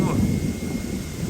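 Strong storm wind roars steadily and loudly in a sudden big storm, a dense, continuous rumbling gust with no breaks, heard alone at close range.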